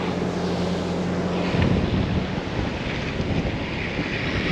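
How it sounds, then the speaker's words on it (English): An old Isuzu D-Max driving on a beach, its engine a low steady rumble at first, then broad roaring wind and surf noise washing over the microphone, loud and continuous. "So Amber's doing a bit of beach driving in the old D-Max."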